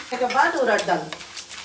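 Fenugreek seeds are roasted and stirred in a pan for Andhra karam podi. A short, soft dry sizzle and scraping stir sound under a voice.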